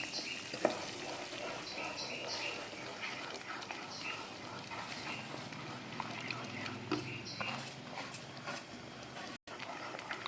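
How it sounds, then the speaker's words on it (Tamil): Samba wheat rava poured bit by bit into boiling water on a medium flame for kichadi, with a bubbling, hissing cooking wash and scattered scraping stir noises, fairly quiet and continuous, and a brief dropout near the end. "இப்போ நம்ம சம்பா ரவையை கொஞ்சம் கொஞ்சமாக போட்டு கிளற வேண்டியதான்"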